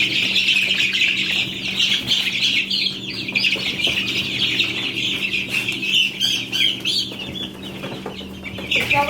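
Chickens squawk and cluck loudly and continuously while being moved into a box, with agitated bursts and some rustling, close by and without talk.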